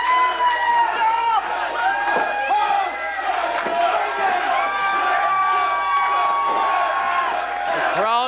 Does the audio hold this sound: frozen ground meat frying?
no